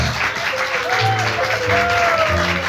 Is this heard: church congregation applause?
yes